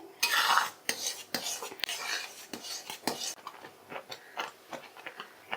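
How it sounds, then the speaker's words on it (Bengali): Palm pulp being stirred in a wok with a spatula while it cooks down for an eggless palm cake, giving irregular close scrapes and light metallic clinks with no talk. "কড়াতে খুঁতি দিয়ে আমি এইভাবে নেড়ে নেড়ে তালের পাল্পটা জাল করে নিচ্ছি"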